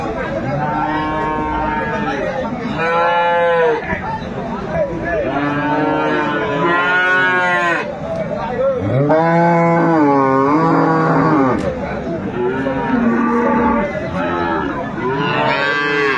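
Cows and calves moo repeatedly at a busy cattle market, with long drawn-out lowing calls overlapping one another, close and loud, over a background of crowd chatter and people talking.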